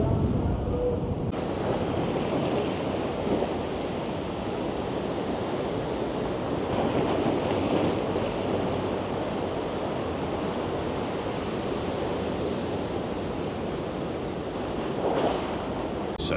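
Choppy sea surf and gusting wind on the seafront at Blackpool, a steady broadband wash of breaking waves with wind rumble buffeting the microphone throughout, loud and close with no speech.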